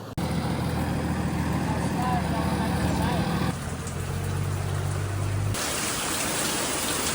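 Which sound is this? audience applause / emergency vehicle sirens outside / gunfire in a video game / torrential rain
torrential rain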